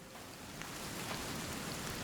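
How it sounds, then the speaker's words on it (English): Steady rain falls in the survival video game Sons of the Forest, an even, continuous hiss of drops on the ground, soft and unbroken for a couple of seconds. "Oh, it's raining."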